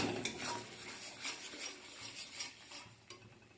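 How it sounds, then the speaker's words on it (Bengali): Spice masala with turmeric, sugar and salt is stirred and sautéed in a pan for chicken curry, soft repeated scraping strokes of a spoon against the pan, faint and close, with no talking. "ভালো করে কষিয়ে নেব"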